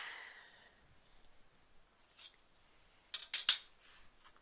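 Scissors trimming fabric pieces for a quilt block, a few quiet close snips clustered near the end after a near-silent stretch with faint handling rustle.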